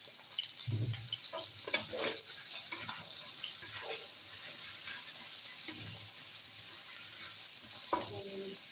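Oil sizzles in a pan while soy-braised chicken is being cooked, giving a constant close hiss with scattered utensil clinks and scrapes on top.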